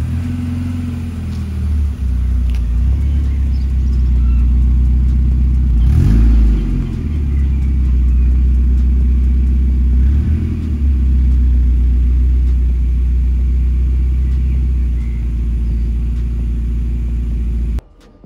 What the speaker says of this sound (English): now I just need to try and park the Miata inside here.